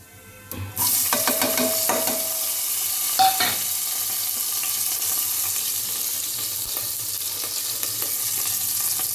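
Asafoetida, cumin and sliced onion hit hot oil in a pressure cooker with a sudden loud sizzle that settles into a steady, continuous hiss, broken by a few clinks of a spoon, up close with no talking.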